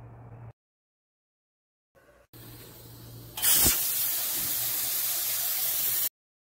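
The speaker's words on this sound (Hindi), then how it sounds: "अब हम पायों को प्रेशर कुकर दे देंगे 30 मिनट के लिए।" Pressure cooker steaming while mutton paya (goat trotters) cook, a loud sustained hiss that bursts in after short quiet gaps and holds steady until it cuts off abruptly.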